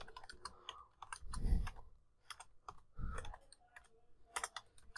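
Close, quiet typing on a computer keyboard: rapid irregular key clicks with a couple of heavier thumps, like a spacebar or Enter key, and no speech.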